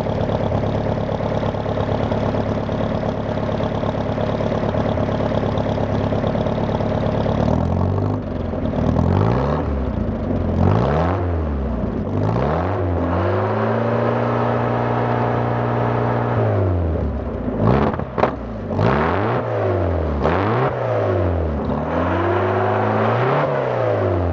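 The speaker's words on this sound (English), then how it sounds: "I think I'll rev it up so y'all can see it and hear it." Carbureted AMC 150 four-cylinder engine in a 1984 Jeep DJ-5M idling steadily, then revved repeatedly in a series of rising and falling surges, with a quick double blip near the end, close and loud with no talking.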